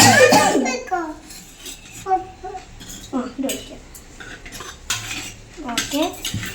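A metal spoon clinks and scrapes against a pot while stirring rice gruel, sharp repeated strikes in an uneven rhythm, heard close alongside someone talking throughout.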